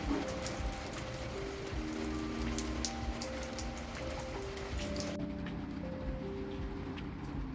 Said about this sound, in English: it's been raining for the past few hours anyways